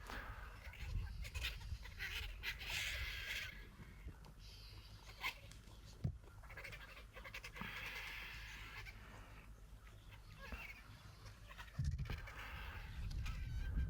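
Harsh, raspy squawking and cackling from several vultures overlap in a continuous, noisy chorus, with occasional sharper bursts.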